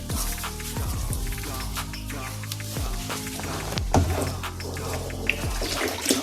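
Water pouring into a plastic barrel to dissolve fertilizer for chilli plants, a steady splashing stream with occasional knocks and thumps against the container, fairly close and moderately quiet.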